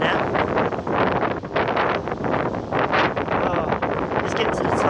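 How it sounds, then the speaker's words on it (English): Heavy wind buffets the microphone in loud, rumbling gusts, nearly drowning out a voice speaking underneath. "Very windy, so bear with me."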